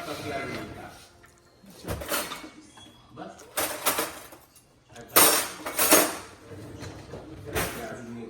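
Dishes and utensils being handled and scrubbed, with repeated clinks, clatters and scraping bursts coming in uneven clusters, close and fairly loud, while people talk throughout.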